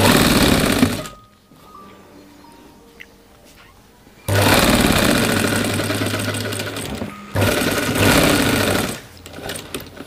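A sewing machine runs a lower seam on a men's kurta pajama, with one short burst followed by two long, loud, steady stitching runs separated by a quieter stretch of handling noise.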